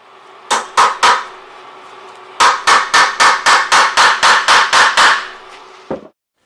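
Sharp metallic hammer blows driving a wheel lock extractor onto a car wheel lock, three spaced strikes then a quick run of about ten evenly paced hits, close and loud with a faint hum underneath.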